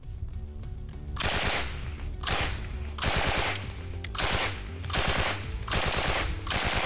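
Rapid automatic gunfire in repeated bursts, each a loud rattling volley lasting about a second, separated by brief pauses.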